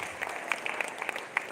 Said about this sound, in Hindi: एक बार जोरदार तालियां आप इनके सम्मान में